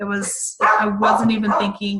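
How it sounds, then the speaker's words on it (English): Four dogs bark at a house as a car pulls in: loud, close, overlapping barks and yips mixed in with someone talking. "she's got 4 amazing dogs, but they do like to bark when they pull in"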